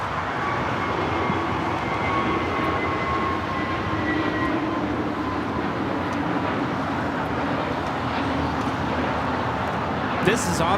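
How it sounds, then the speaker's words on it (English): An Avianca Airbus A320neo airliner takes off at LAX, heard as a steady, broad engine roar at moderate distance with a faint whine running through it and no break. "This is Avianca 557 taking off to Guatemala City on the A320 NEO."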